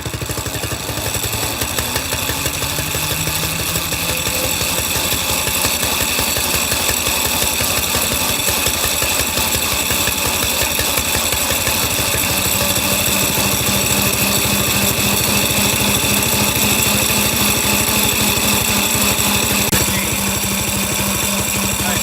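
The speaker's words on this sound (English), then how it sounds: "set the start, or turn the engine on, and then give it a crank" Small engine on a drift trike cranked and then running, a loud, close, continuous rattling putter with fast even pulses that settles into a steadier idle partway through.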